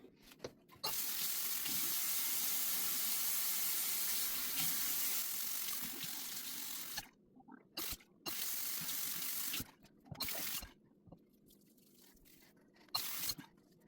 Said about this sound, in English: It says to rinse thoroughly or remove with a damp cloth.